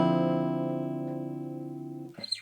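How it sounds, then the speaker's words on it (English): A guitar rings out a jazzy minor chord voicing, struck once and left to sustain for about two seconds before it is muted, with a brief scrape of string noise at the end. "it's a jazzier version of a minor chord, and it sounds like this"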